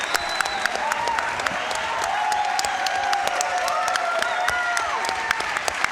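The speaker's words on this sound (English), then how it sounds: "come on, round of applause for Scuti and Alex T." Sustained applause from a crowd at the Classic Tetris World Championship semifinals, dense clapping throughout with a few faint voices calling out underneath.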